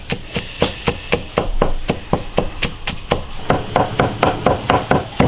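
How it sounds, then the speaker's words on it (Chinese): A cleaver minces garlic on a cutting board, steady rhythmic thuds about three per second, loud and close, with no speech. "大蒜剁碎，"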